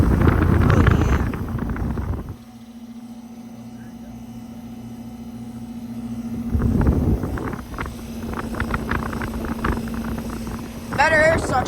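A brand-new Ameristar air conditioner built in 2018 runs with a steady, low mechanical hum at close range, with a person talking at the start and again partway through.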